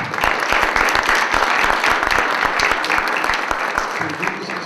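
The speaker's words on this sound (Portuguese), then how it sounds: "Salve de palmas, então." Applause from the audience at a Python audio-classification talk, a dense burst of many hands clapping steadily and fairly loud for several seconds, close and continuous, with faint voices underneath.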